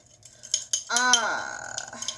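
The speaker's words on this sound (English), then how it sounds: "I'm going to put this in here, and I'm going to stir." A metal spoon stirs dried mustard, fine salt and a couple pinches of sugar in a bowl, giving brief clinks and then a ringing scrape against the side.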